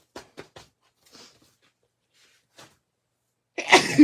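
A few faint soft clicks and breaths, then a single loud, sharp sneeze bursts out close up at the very end.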